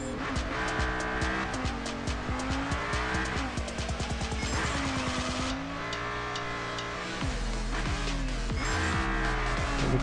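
A fast car drifts through turns in the mobile racing game Deriva Max Pro, its engine whining and shifting pitch while tires squeal in long, repeated skids, loud and continuous.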